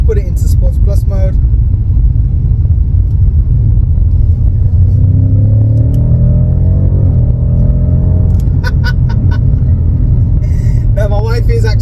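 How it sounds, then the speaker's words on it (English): A BMW F90 M5 with the M Performance exhaust in Sports Plus mode rises into a loud, deep engine roar that climbs and holds before easing off, with a voice talking briefly at the start and end. "it does have the M Performance exhaust. So if I put it into Sports Plus mode,"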